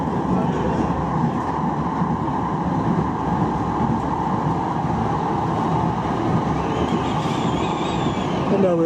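A Manchester Metrolink tram runs at speed, giving a steady loud rumble of wheels and motor heard from inside the car, with a brief squeal near the end.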